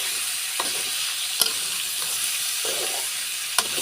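Gourd and lentils frying with ginger-cumin paste, a steady close sizzle broken by a few sharp scrapes and clinks as the mixture is stirred.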